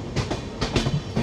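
Amaravati Express 18048 train rolling through the Dudhsagar ghat section, with rhythmic clickety-clack wheel beats pulsing several times over steady rumble, close and fairly loud.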